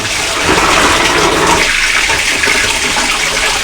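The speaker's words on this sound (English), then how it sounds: "So, put it in and just drag the water through" Water runs steadily and close by as a wig is rinsed, the water dragged through the hair in a continuous splashing rush with no break.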